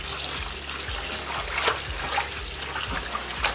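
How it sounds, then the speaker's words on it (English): Collard greens placed back into a bowl of cold lemon water, with close trickling, sloshing and splashing of water and repeated soft thumps as the leaves are moved about. "I'm going to put the vegetables back into the water."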